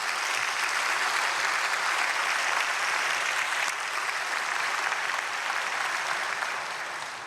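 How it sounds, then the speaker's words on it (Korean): A church congregation at Myungsung Church's early-morning prayer service gives steady, dense applause to visiting elders of Seoul Forest Church, the clapping continuous and even throughout before easing slightly at the end. "서울숲교회 장로님들 이 새벽에 오셨는데 박수 한번 해주시죠."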